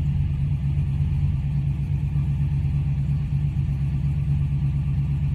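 An American muscle car engine idles while warming up, a deep, steady low rumble with a lumpy, even pulse, heard close and alone without any talk.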